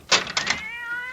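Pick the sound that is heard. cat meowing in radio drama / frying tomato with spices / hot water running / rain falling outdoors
cat meowing in radio drama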